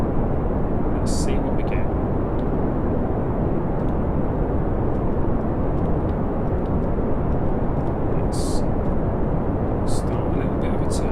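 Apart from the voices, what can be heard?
rocket engine throttling up in Kerbal Space Program video game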